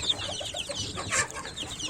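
Village chickens cluck softly in short bursts, with a few higher chirps mixed in, against a steady outdoor background.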